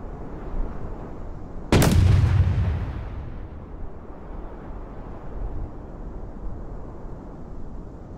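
A single heavy artillery blast in the war strategy game Call to Arms, during a lakebed battle, booms loudly and close, then rumbles away into a low, steady din of distant battlefield noise.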